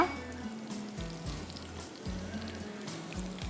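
Mustard seeds and curry leaves crackle in hot ghee for a tempering, a soft, close sizzle with light spitting pops that carries on steadily.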